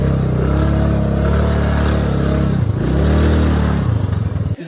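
Scooter and motorbike engines ride a rough jungle road off-road near Tara Devi, a loud, close, continuous rumble with revving swells and rattling clatter, no talk.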